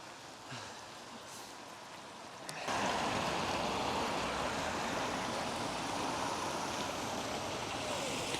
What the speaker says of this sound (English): It's the Russell Waterfall.